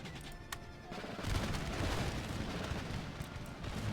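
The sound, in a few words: artillery canister fire in video game Empire Total War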